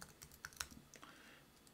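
Quick typing of a word on a computer keyboard, a short run of light, close key clicks with uneven spacing, then a brief pause and a few more taps, with no voices.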